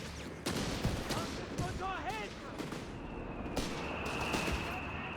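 Mortar blasts and rattling gunfire from the Company of Heroes 3 strategy game, with sharp broadband explosions and continuous battle noise filling the scene, under a caster's running commentary.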